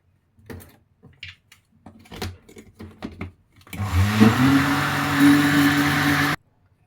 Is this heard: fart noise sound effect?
no